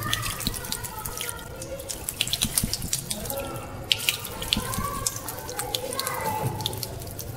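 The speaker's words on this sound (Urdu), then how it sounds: "اور پھر اس کے بعد 3 دفعہ ناک میں پانی ڈالنا," Tap water running and splashing into a sink during ablution (wudu), with water drawn into the nose; steady close running water with drips and splashes, no talk.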